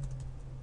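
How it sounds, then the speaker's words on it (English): Keys clatter on a computer keyboard in a brief run of close, light typing over a low steady hum. "So I'm going to type Billy and pass 123"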